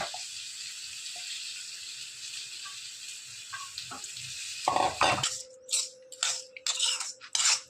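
Mango pieces with salt and asafoetida being stirred in a pan with the stove switched off, giving close scraping and clinking spoon-on-metal strokes in quick bursts toward the end over a steady background hiss.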